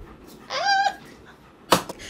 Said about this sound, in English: you can hear my dog. He's so loud.